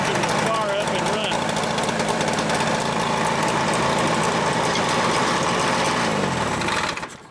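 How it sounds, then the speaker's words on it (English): A Vespa 400 engine runs with a busy, buzzing rattle at a steady close level, the small motor chattering continuously before cutting off near the end. "hit the starter, and the engine will fire up and run"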